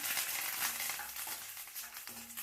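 Curry leaves being added to hot oil with roasted peanuts for lemon rice, a close, continuous sizzle and crackle with light stirring.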